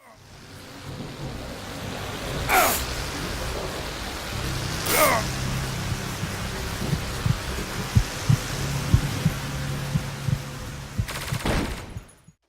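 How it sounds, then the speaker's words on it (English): A looped heartbeat plays in the Unity game Angry Bots as repeated soft low thumps in a steady rhythm, mixed with bursts of sharp gunfire. "the health script would trigger the heartbeat loop to play in the game"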